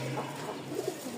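A single kolfotka pigeon gives a soft, brief coo from close by over a faint, steady background hum.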